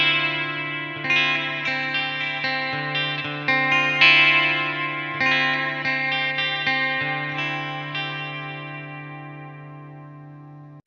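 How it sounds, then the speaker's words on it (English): Electric guitar played through a Peavey Valveking 20 tube amp with its onboard digital reverb engaged, sustained distorted chords struck repeatedly and ringing out with a long reverb tail, loud and alone. "Also shared by both channels is the top-notch onboard digital reverb, and that could be switched off and on with a foot switch."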